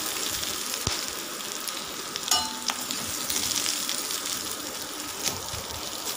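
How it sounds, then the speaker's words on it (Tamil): Elephant yam (chena) pieces frying in hot oil for a crispy varuval, giving a steady close sizzle with occasional louder crackles and pops throughout, no voices. "இந்த எண்ணெயிலே போட்டு அது கொட்டி கொட்டி திருப்பி எடுக்கிற வேண்டியது"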